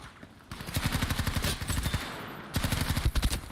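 Rapid automatic gunfire in Battlefield 2042, two sustained bursts of fast shots with heavy recoil, loud and close, separated by a brief pause.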